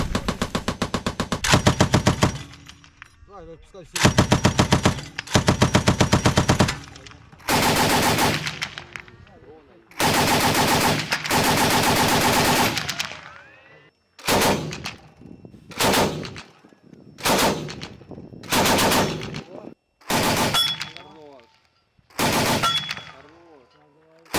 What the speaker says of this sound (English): they're going to practice training on the machine gun, which they keep on the top for closer quarters combat